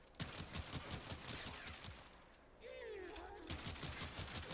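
Kuva Twin Stubbas guns in Warframe fire in rapid, rhythmic bursts with a whooshing ability sound in the middle, mixed under game effects.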